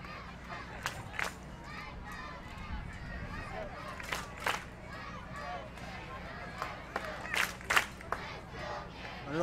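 A softball crowd at a junior Canada versus USA game chants in the distance, a faint rhythmic group shout under steady open-air crowd noise.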